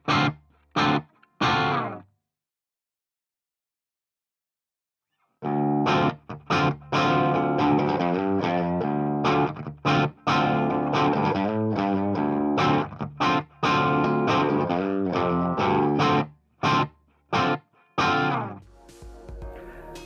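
Crunchy, distorted electric guitar playing strummed chords and riffs through an Audient MiCO preamp, loud and close, after a few short stabs and a pause of silence.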